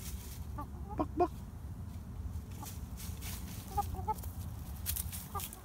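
Young Buff and Lavender Orpington chickens cluck in scattered short bursts outdoors, fairly close but soft, over a steady background hiss with no talking.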